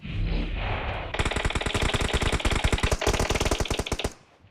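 Automatic gunfire in the battle-royale game PUBG, rapid loud bursts of machine-gun shots with a brief break before a second volley, then a fade.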